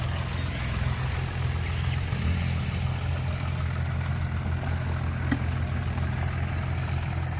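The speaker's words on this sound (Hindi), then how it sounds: "तो भाई अब लेके जा रहे हैं इसको ट्रैक्टर को" A John Deere 5060 E tractor engine idles steadily and close by, a continuous low rumble with no speech, as it sets off by road toward tillage work with a Landforce 8-foot superseeder.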